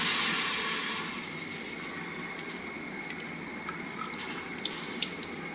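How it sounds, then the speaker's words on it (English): Tap water runs into a sink as a metal ball is cooled under it in a classroom heat-expansion demonstration, a steady hiss of flowing water with a few faint clinks and drips. "The metal ball then is cooled under the tap water."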